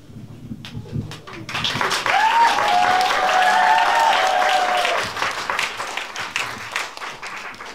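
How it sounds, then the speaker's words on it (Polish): Warm applause from an audience at a poetry and carol evening in a cellar venue, starting with scattered claps, swelling into a full dense round for a few seconds, then thinning out. A high whistling tone sounds briefly over the clapping. "Mam nadzieję, że dalej będziecie tak gorąco oklaskiwać naszych artystów."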